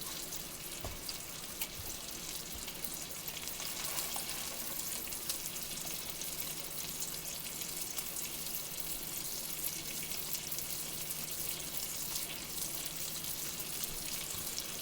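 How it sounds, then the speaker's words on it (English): Trout fillet sizzles and crackles steadily in butter in a hot pan, a constant fizzing hiss with occasional small pops, close by and with no voices. "as the trout continues to cook, then it will begin to sizzle more and more"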